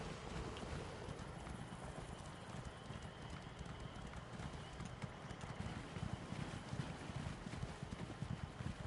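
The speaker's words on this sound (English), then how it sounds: "You and your little tiny horse." Small pony hooves clip-clop steadily in a PS4 video game, a continuous rapid trotting rhythm under wind-like ambient game noise.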